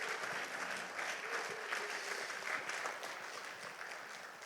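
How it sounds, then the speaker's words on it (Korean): An audience claps steadily, a dense, sustained round of applause from a crowd that keeps going without a break and fades slightly at the end. "장혁표 우리 명예 이사장님께도 여러분 뜨거운 박수를 보내주시기 바랍니다."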